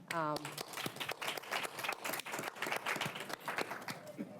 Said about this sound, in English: So round of applause for all of them.